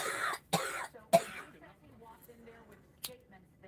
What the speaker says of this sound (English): Now she's choking because she's coughing.